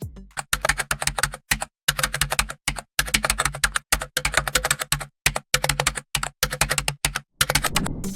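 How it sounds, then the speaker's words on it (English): Fast mechanical computer keyboard typing, AI-generated: dense rapid clacking keystrokes in close, crisp bursts separated by brief silent gaps, running continuously like a loop. "mechanical keyboard typing fast loop"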